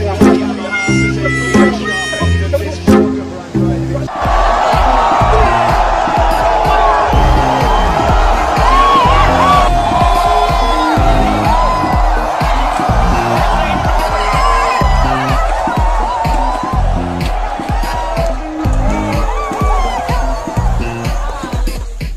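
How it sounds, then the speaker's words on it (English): Dense motorsport grandstand crowd at a MotoGP race roars and cheers continuously, loud and close, with whoops and groaning swells rising over a steady babble after a brief opening passage of other sound. "The crowd on their feet in front of our commentary box position, they cannot believe it."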